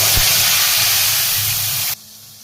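Ground spices hitting hot oil in a pan for biryani, a loud close sizzle and hiss that holds steady, then cuts off abruptly near the end.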